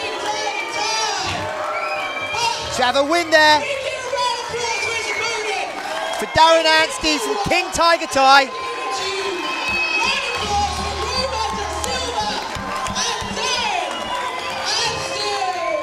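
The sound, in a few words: crowd cheering after fight stoppage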